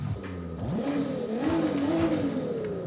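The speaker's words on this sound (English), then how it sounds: "Pretty sure that's the Skyline engine, or maybe it's the GTR." A Nissan Skyline engine revving in Forza Horizon 5, a clear rise in pitch as it accelerates, holding near the top before easing off and climbing again, moderately loud and heard alone.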